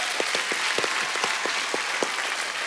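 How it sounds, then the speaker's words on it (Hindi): A studio audience at a comedy talk show applauds in a moderate, continuous wash of clapping, with a few sharper claps standing out near the front. "तालियां बनती हैं भाई आपके लिए।"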